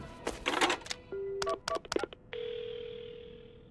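Telephone keypad dialing in the video game Paranormasight, a quick series of distinct electronic tone beeps followed by a steady, sustained dial or ringing tone, heard alone without speech.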